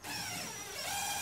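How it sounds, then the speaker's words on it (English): Power screw gun driving a long screw into a post of an elevated garden planter, a steady whirring motor drone held for the full second, close and moderately loud. "today I'll be using the power screw gun"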